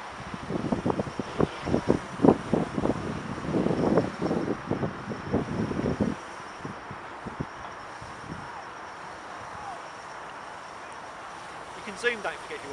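Wind buffets a microphone outdoors while a Blade 350QX quadcopter hovers hands-off, producing rough low gusty thumps that ease off halfway through as people talk over it.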